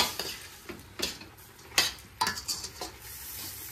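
Shrimp with garlic, lemon, butter and peppers is stirred in a pan, a soft sizzle under a handful of irregular utensil clinks and scrapes, close and fairly quiet.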